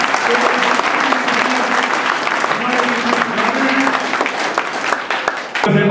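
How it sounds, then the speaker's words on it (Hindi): Loud, sustained applause from a large gathering welcoming an honoured guest, dense clapping that runs unbroken with a voice over a loudspeaker faintly audible beneath it. "तालियों से स्वागत करें।"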